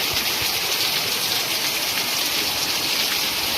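Steady heavy rain pours down in Moti Rajsthali near Palitana, a dense unbroken hiss of water striking surfaces that stays even and loud throughout.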